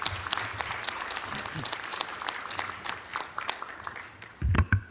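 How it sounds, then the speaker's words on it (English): Warm applause from a conference audience welcoming a student presenting team at a university research paper competition, steady clapping throughout with a louder burst near the end. "Please welcome them with a warm round of applause."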